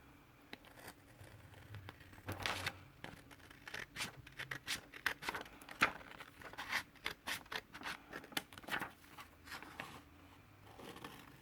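Scissors cut out a paper belly band journaling card for a craft project, making soft, quiet snips and paper rustles in quick irregular runs close by.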